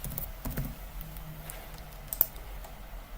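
Keystrokes on a computer keyboard in a hospital electronic patient record system, a short burst of quiet clicks near the start and a few scattered taps later over a soft room hum.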